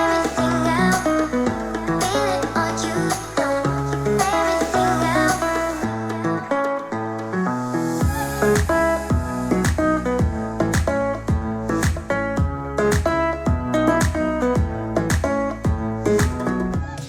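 A music cover plays through an Edifier M60 desktop speaker fed from an aux DAC, a full band mix with steady beat and dense harmonic layers, loud and continuous with a brief bass dropout midway, no talking.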